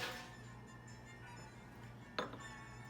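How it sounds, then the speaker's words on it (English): A single bright clink of glass as a Blood and Sand cocktail glass is emptied through a strainer, ringing out near the end over a quiet, steady background hum. "Then we're going to empty our cocktail glass."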